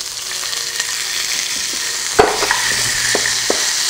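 Garlic sizzles steadily in a pan on the stove, a close, bright frying hiss punctuated by a sharp clack and a few scraping stirs midway.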